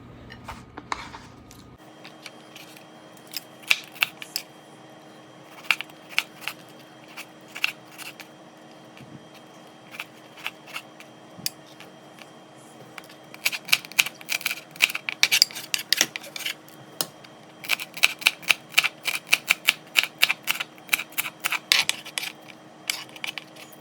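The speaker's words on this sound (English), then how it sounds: "let me finish cutting this up really quick" Knife chopping potatoes on a cutting board for potato salad, with irregular sharp taps clustering into quick bursts of rapid cuts, close and moderately loud against a quiet kitchen hum, no voices.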